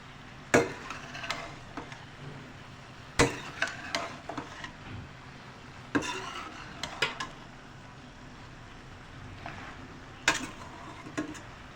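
A spoon stirs spicy achari chicken macaroni with vegetables in a pan over a low flame, scraping and knocking against the metal in sharp, irregular clanks, with a faint sizzle underneath.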